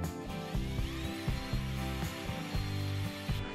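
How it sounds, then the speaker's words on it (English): An electric drill spins a metal ferrule for a Honda CL125 motorcycle steering and suspension build, giving a steady mechanical whir with rhythmic chattering pulses, close and fairly loud, alone without talk. "So I might just chuck it up in a drill and see if I can't make this ferrule fit properly."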